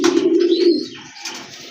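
A pair of Lahori pigeons gives a soft, close coo that swells and then fades, with a brief rustle after it and no voices.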